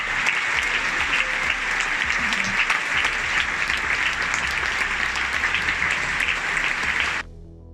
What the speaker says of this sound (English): they love to applaud them and show their love for them